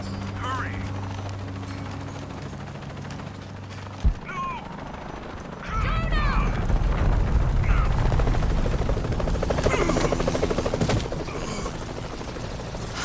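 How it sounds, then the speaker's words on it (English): Helicopter in the video game Shadow of the Tomb Raider, its rotor thrumming loudly and steadily after a sharp impact, with mechanical clatter and bursts of chatter and voice lines over it. "Laura, I'm in a chopper, I've got a pilot"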